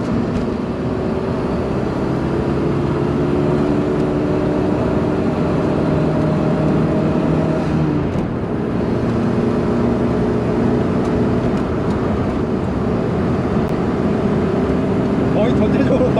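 A Kia Elan circling the Inje Speedium race circuit at partial throttle drones steadily from inside the cabin, its engine tone holding a low, even hum with faint shifting harmonics throughout.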